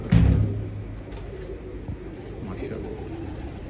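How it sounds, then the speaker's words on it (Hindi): A pigeon gives a low cooing call up close during a pigeon breeder's tour, with a few soft coos and a voice talking nearby. "ये देखें फर से भरपूर कबूतर"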